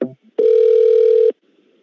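A single steady telephone tone sounds loud and alone for about a second after a brief click, marking a prank call being disconnected.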